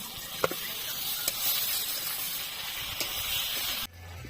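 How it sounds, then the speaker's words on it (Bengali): Chopped onion and soya chunks fry in oil tempered with cumin and dried chilies, giving a soft, even hiss with a few faint stirring taps before it cuts off abruptly near the end. "এবার দিচ্ছি পেঁয়াজ কুচি, সয়াবিন গুলো কষিয়ে নেব"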